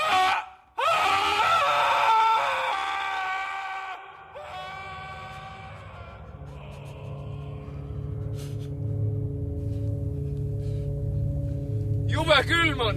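Loud, shrill human screams burst out at the start and again near the end. Between them come quieter vocal sounds and a low, steady hum.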